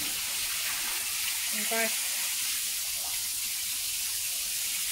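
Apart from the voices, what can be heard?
pond water being pushed through a hose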